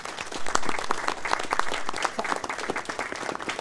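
A studio audience claps for a presenter's introduction, a dense, fairly close burst of hand clapping with scattered sharper claps standing out, continuing steadily with no talking.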